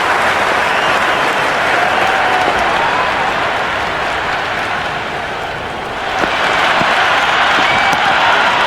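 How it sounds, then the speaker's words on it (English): Crowd applause in the Cricket 26 video game, a dense, sustained wash of clapping and cheering that dips briefly and then swells again. "The crowd is electric right now."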